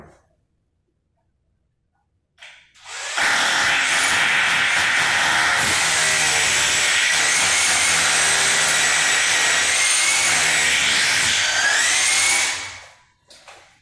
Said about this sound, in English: using a 3/16 drill bit on the SDS rotary hammer drill